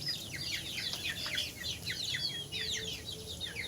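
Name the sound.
young native chickens and roosters on a farm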